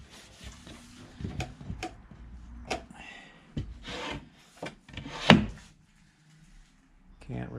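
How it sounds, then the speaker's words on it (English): A soft towel wipes down the wooden cabinet of a 1972 Magnavox AstroSonic stereo console, producing irregular rubbing and scuffing strokes with occasional knocks on the wood, close up, while a person talks. "Get a clean, fresh, soft towel, and we'll wipe down the whole unit."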